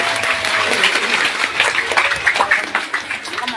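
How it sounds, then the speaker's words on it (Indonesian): Applause from a crowd at an outdoor Islamic religious gathering in South Kalimantan, a dense steady clatter of many hands that swells slightly in spots over about three and a half seconds. "Tepuk tangan dulu buat Kalsel semuanya."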